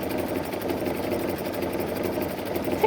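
A Baby Lock Anthem sewing machine runs a steady ladder stitch, its rapid even mechanical whir and rhythmic needle patter continuing uninterrupted and close, with no voices.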